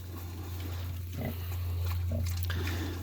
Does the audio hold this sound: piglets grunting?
yes